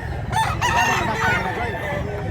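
A big-size rooster about a year old crows once, loud and close, with a rising then held call amid steady background noise and a faint voice at a poultry market.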